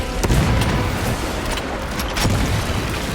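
A frag grenade bursts in the Warhammer 40k Space Marine 2 video game, a loud, dense rumbling blast with sharp crackling transients layered over continuous heavy combat noise.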